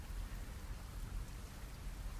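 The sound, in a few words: rain falling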